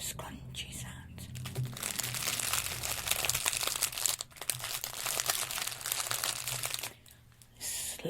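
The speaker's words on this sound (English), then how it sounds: "and also scrunchy sounds." Scrunchy ASMR crinkling, like soft material or plastic being crumpled close to the microphone, runs continuously with a brief drop near the end, while faint background tones sit underneath.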